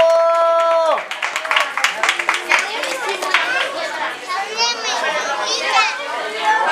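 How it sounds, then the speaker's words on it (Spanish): Children and guests clapping at a birthday party with a Batman and Spider-Man cake, scattered claps and cheers mixed with children's chatter and shouts after a held sung note. "¡Fuerte el aplauso!"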